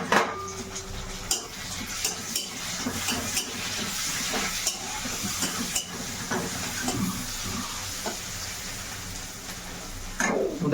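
Onions and dried salted fish (luni sukhua) fry in a pan, Odisha style, with a steady low sizzle, stirring scrapes and occasional clinks of utensil on pan, close and moderate, with no talking.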